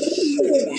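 Pigeons in a loft give a single close, low rolling coo, clear and unbroken by speech.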